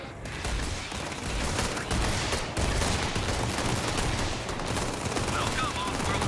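Sustained gunfire from several weapons in the space game Starfield, a dense continuous barrage of rapid shots with bursts that sound like automatic fire, loud and steady throughout.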